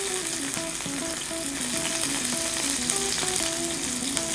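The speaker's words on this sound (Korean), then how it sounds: "스테이크는 집에서 굽는 거나 똑같이 구우시면 돼요" Aged Holstein dairy-cow sirloin steak sizzles in a hot pan with a constant, close crackling hiss, and a faint tonal background runs underneath.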